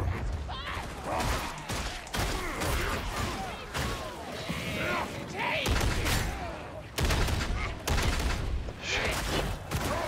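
Heavy gunfire from an Ogryn's weapon in Warhammer 40,000: Darktide, dense bursts and impacts running throughout amid clanking combat noise, with a voice talking over parts.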